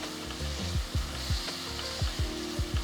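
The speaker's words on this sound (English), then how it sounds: "Now add 2 chopped tomatoes and saute for another 3 minutes." Chopped tomatoes sautéing for sambar rice, a steady close sizzle of frying with a rhythmic series of spoon strokes stirring through the pan, no talk.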